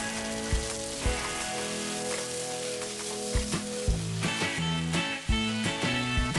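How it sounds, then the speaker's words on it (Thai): Shrimp and tomato stir-frying in a pan with chili paste for tom yum fried rice, a continuous close sizzle broken by repeated scraping spatula strokes and clanks against the pan, with no voices. "ผัดให้เข้ากัน ให้กุ้งด้านนอกพอสุกค่ะ"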